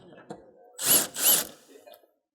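A hand ratchet works 10 mm headlight bolts loose on a Nissan 370Z, two short bursts of quick clicking close up, with faint thumps before and after.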